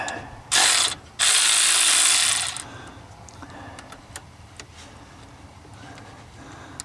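An AC Delco 12V electric ratchet wrench spins a bolt under a vehicle in two loud, close buzzing bursts, followed by quieter clicks and handling noise.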